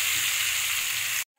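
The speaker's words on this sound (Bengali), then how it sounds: "এবার মাছটাকে জাস্ট একবার নাড়া দিয়ে" Hilsa fish, unfried, sizzles steadily in a hot pan with oil and spices for a raw-hilsa curry, a loud continuous hiss that cuts off abruptly near the end.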